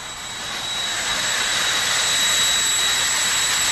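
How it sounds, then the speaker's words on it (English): Jet dragster's jet engine at a drag strip, a loud continuous roaring hiss with a thin high whine, swelling slightly at first and then holding steady and close, with no talk. "Jet Dragsters getting ready to go once again here at Raceway Park."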